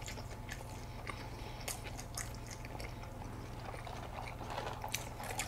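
Close-up chewing of an egg salad sandwich on soft bread during a mukbang, with steady wet, soft mastication and small crunchy bites repeating throughout at close range.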